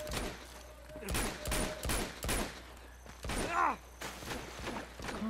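Gunfire in Uncharted 2: Among Thieves, a burst of sharp shots in quick succession with short pauses between, loud and close over a steady game background hum, with no talking.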